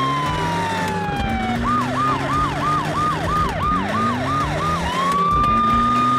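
A cartoon police car siren wails in a fast, repeating yelp pattern between steadier rising tones, loud and continuous over engine rumble, with no talking.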